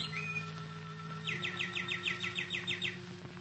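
Birdsong plays in a quick series of rhythmic chirping trills, moderately faint, over a low steady hum.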